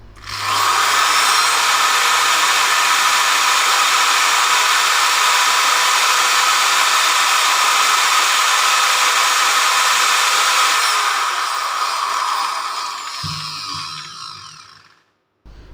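A J-LD J3310 car polishing machine runs with no load, a loud, steady high-pitched electric whine held for about eleven seconds before winding down and fading out, followed by a brief clunk.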